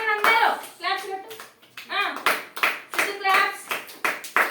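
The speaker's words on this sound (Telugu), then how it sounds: "క్లాప్స్ పెట్టండి అందరూ" Preschool children at an anganwadi clap their hands in several quick bursts of rhythmic applause, mixed with children's voices and a teacher speaking between the rounds.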